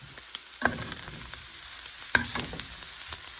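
Round steak with onions and mushrooms sizzles in a frying pan, a steady soft hiss broken by a couple of sharp scraping stirs close by.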